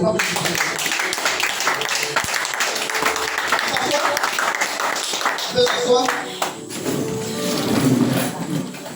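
A church congregation at a resurrection service in Abengourou bursts into loud cheering and clapping, with shouting voices over dense, continuous applause throughout.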